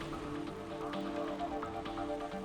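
Steady rain falls continuously, a soft even patter with a faint hum underneath.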